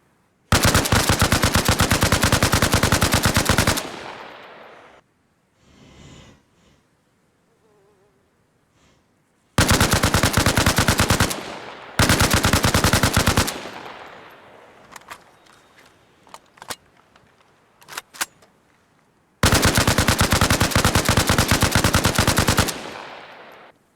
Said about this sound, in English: So we'll start with the AK-74.